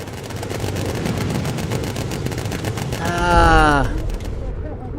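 Turret gunners on a World War II bomber rattle off sustained machine gun fire in the game Bomber Crew, a steady stream of rapid shots over engine drone, joined late by a shouted voice before the firing cuts off.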